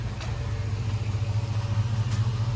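The engine of a 1955 shop truck runs close by at a steady idle, with a deep, even, pulsing rumble and no talking.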